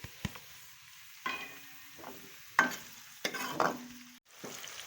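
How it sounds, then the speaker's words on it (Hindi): Onions frying in a couple of spoons of oil in a kadai make a faint sizzle broken by several sharp stirring scrapes and clinks of a spoon against the pan, at close range. "प्याज को फ्राई करते हुए हमें 2 मिनट हो चुके हैं"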